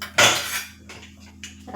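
A spoon knocks and scrapes inside a bowl while a sama rice khichdi mixture is stirred with water. It gives one sharp clink, then lighter taps and scrapes close by, with no talking.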